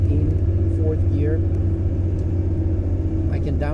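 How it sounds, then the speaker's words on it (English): A 1988 Lada Niva 4x4 cruising in fourth gear at about 70 km/h, heard from inside the cabin as a steady low engine and road rumble with someone talking over it throughout. "we're driving in fourth gear, we're going 70 kilometers an hour"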